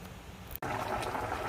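Water boils vigorously in a pot of Dominican rice with longaniza sausage cooking on high heat, a close, continuous bubbling and hissing broken by one brief dropout.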